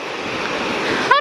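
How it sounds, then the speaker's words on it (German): Surf washing steadily onto a beach in New Zealand, a continuous loud rushing wash heard close by with wind buffeting the microphone. "Und wir laufen hier halt am Strand lang."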